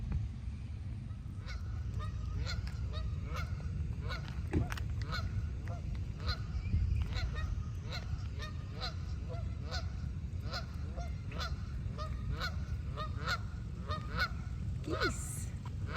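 Canada geese honk repeatedly at a lakeside campground at Seven Points in Tennessee, a steady scatter of calls over low constant background rumble, moderately close and continuing throughout.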